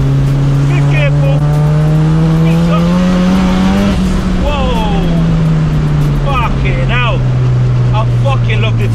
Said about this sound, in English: it's wheel spinning in every gear